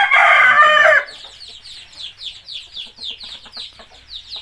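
Chickens clucking and calling in a farmyard on a cool morning of about 17 degrees, with chicks starting to come out; a loud, close call opens, then a steady run of rhythmic, softer clucks and peeps follows.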